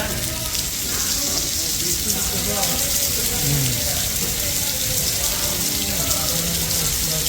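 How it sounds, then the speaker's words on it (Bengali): Heavy rain pours down steadily at an airport during a storm, a dense continuous hiss close by with faint voices underneath. "এরকম বৃষ্টি 1 ঘন্টা হলে কি হবে গো?"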